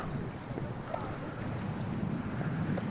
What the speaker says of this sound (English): I've got just a constant wind right here